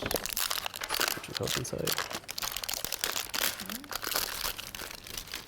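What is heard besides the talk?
unwrapping a wrapped puzzle game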